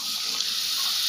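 Water pours steadily into a pan of country-style desi chicken masala being cooked on a Sunday, a continuous close splashing gush with no talk.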